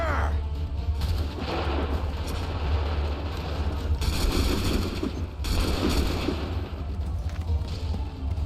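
Cannon and musket volleys fired on command in Assassin's Creed 3, loud booming gunfire bursts around the 4 and 5.5 second marks over a steady low battlefield rumble, with shouted orders in between.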